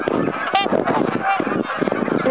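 A flock of geese honks loudly and continuously at close range while flying in to eat corn put out for them during winter feeding.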